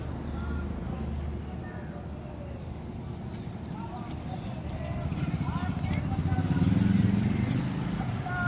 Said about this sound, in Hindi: हमारी सहकारी रैली जो मोटरसाइकिल द्वारा चली हुई है गांव हंतरा के बिल्कुल नज़दीक आप आते हुए देख रहे हैं